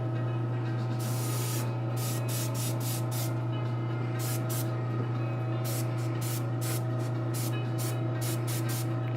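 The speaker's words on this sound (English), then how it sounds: "take some of the chrome, get this out of the airbrush" Airbrush spraying chrome paint onto an anime model kit: several short hissing bursts of spray, some quick and clustered, others longer, over a steady low mechanical hum from a compressor.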